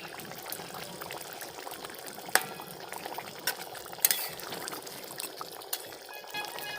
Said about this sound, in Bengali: এবার একটু ফুটে এসেছে।